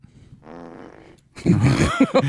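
A fart sound effect gives a buzzy, sputtering rasp lasting about a second, followed by louder mixed noise and brief voices.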